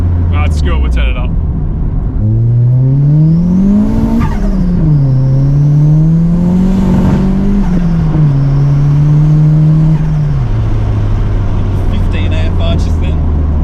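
A turbocharged car with a 4G15 engine revs under boost, pitch climbing and wavering through long pulls before settling to a steady drone, loud and close, with brief higher-pitched whines near the start and end.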